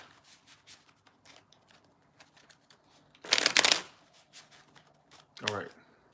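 Tarot cards being shuffled, two short crisp riffling bursts standing out over quiet background noise and soft talk.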